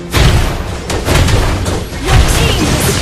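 Booming, crashing blasts as a turret is destroyed in Mobile Legends, several loud heavy thuds rolling in quick succession amid dense game effects.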